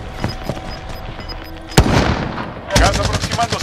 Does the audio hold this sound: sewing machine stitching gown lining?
no